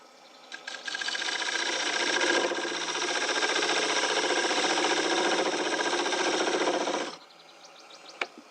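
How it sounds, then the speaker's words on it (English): A parting tool cuts into a wooden bowl spinning on a woodturning lathe, giving a steady, close scraping and buzzing cut that lasts about six seconds before stopping abruptly. "I'm going to take the parting tool."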